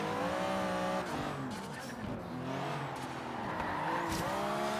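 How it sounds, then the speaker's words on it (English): Car tyres squeal and slide during a drift in the Forza Horizon 3 racing game, a continuous loud engine roar with wavering screech layered on top, steady throughout with no talking. "Do a little drift through there. It's very eager to slide."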